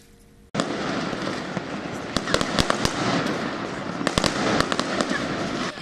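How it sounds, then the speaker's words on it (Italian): New Year's fireworks and firecrackers in Sicily burst in a dense, continuous crackle after a sudden onset, with sharp louder bangs scattered through. "per festeggiare il Capodanno in Sicilia, non sono mancati i botti"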